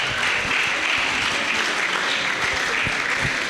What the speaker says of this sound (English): Another round of applause for our distinguished lecturer of the day.